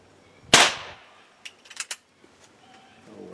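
A single sharp crack from a Crosman 2300 CO2 air pistol fires close by, followed by a few small clicks and rattles before quiet returns.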